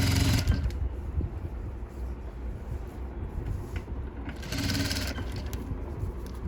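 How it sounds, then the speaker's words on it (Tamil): An overlock sewing machine stitches the raw edge of sleeveless blouse fabric, giving a steady, close mechanical whirr that swells louder near the start and again toward the end. "ஓவர்லாக் அடிச்சுட்டு வந்துடலாம்."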